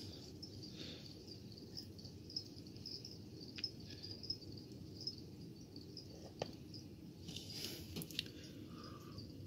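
Feeder crickets chirp faintly inside a redknee tarantula enclosure, a thin steady high trill with a few soft clicks and rustles over a low hum, no voices.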